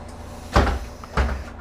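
The pneumatic doors of a MAN A21 city bus are worked by switches, giving two loud, close thumps with a brief hiss about half a second apart and no voices.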